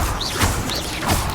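Incendio fire spell cast in the video game Hogwarts Legacy, two swooshing magical bursts with crackling impacts, close and fairly loud against busy game sound.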